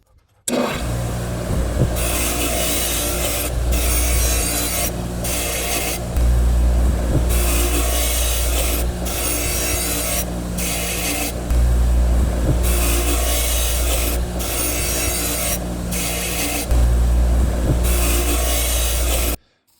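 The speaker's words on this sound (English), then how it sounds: "We're going to clean these up on a wire wheel and see if we can't see something." Scissors being cleaned on a spinning wire wheel, a steady, loud abrasive rasping and whirring that runs for about twenty seconds, pulsing in strength as the blades are pressed on and eased off.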